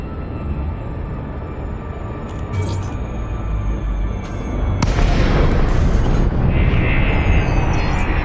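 Elite Dangerous spacecraft frame shift drive disengaging: a continuous loud rumbling roar that swells and brightens midway with a sharp whooshing burst, then settles into a dense sustained drone.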